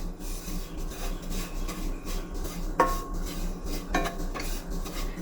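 Dry coconut powder being roasted in a pan over a low flame for mango coconut barfi, giving a steady soft scraping and rubbing of a spatula against the pan, with a couple of sharper clinks, close and moderately quiet.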